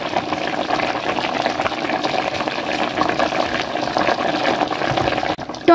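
Fish curry with tomatoes being stirred in a pan: a loud, wet, bubbling and sloshing churn that runs steadily throughout, with a brief clatter right at the end and no speech.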